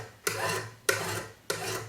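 A sanding stick rasps across a sterling silver cuff bracelet in three evenly spaced strokes, each a sharp gritty scrape that fades out before the next one.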